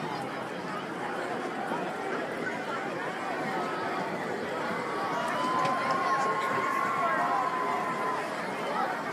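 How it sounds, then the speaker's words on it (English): Crowd at a homecoming high school junior varsity football game at night, a dense, steady murmur of many voices from the stands with scattered shouts, continuous throughout. "Good crowd tonight."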